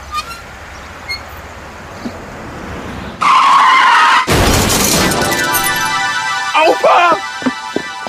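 A white car skids with a sharp tire screech and then strikes an elderly man with a loud, abrupt crash, followed by scattered thuds and voices after the impact.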